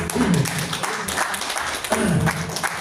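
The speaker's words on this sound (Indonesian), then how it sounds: "Oh monggo, tepuk tangan ya, kita semangati" An audience claps at a health-technology demonstration session, with loose, uneven applause under a busy room and brief voices mixed in.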